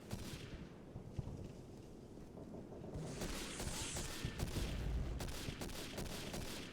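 Gunfire during a realism match of the video game Day of Defeat: Source on the Adenau map, a steady crackle of shots and bursts that builds louder and denser in the second half with no voices.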